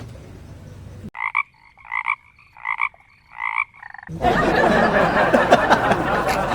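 Four evenly spaced, loud croaks ring out alone, then a burst of noisy chatter and laughter follows.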